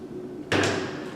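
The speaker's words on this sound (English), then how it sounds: "We're going to spray." A can of hairspray is sprayed onto a bridal updo made with hair extensions. After a quiet moment, one close, sharp burst of hissing spray starts and holds steady to the end.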